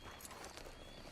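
Horse hooves clip-clop in Red Dead Redemption 2, a quick run of soft hoof knocks over a low rumble, brief and fairly faint.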